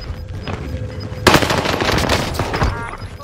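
Heavy automatic gunfire from the Warzone battle royale on Rebirth Island bursts in suddenly and loudly after about a second of quieter ambience, sustained rapid shots continuing to the end.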